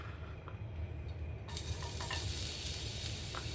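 Ginger sizzling in hot cooking oil, a faint low rumble that turns into a brighter, steady hiss partway through, with no talking.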